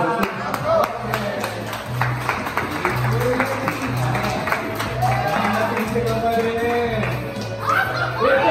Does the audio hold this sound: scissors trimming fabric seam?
no